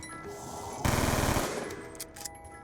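Rapid gunfire burst from a bullpup shotgun in Black Ops 2 Zombies, a loud broadband blast lasting about half a second, then fading into game ambience and mechanical clicks.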